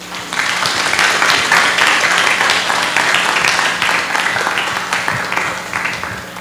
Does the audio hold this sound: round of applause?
yes